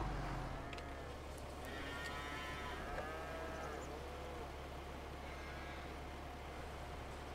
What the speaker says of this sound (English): Listen to them cows moaning about being covered with straw.